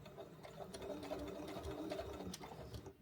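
A sewing machine back stitching on a sock cat toy, a steady close mechanical whir running the full length with light rhythmic needle ticking, no voices over it.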